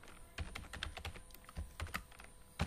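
Fortran code is typed on a computer keyboard in quick, irregular bursts of close, crisp keystrokes, with no talking.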